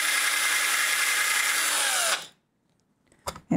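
A handheld power drill boring into scraps of wood, a loud steady whir for about two seconds that winds down and stops, followed by a few quiet knocks and clicks.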